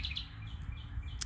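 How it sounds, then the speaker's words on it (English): Birds chirp faintly in a garden on a summer morning, a few thin high calls scattered over soft background ambience, with no voices. "I can hear the birds are"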